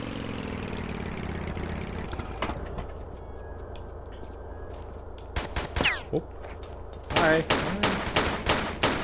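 Bursts of rapid gunfire crackle in Tomb Raider III: The Lost Artifact on PC, loud and close in the last few seconds after a stretch of droning engine-like hum, with a brief spoken word in between.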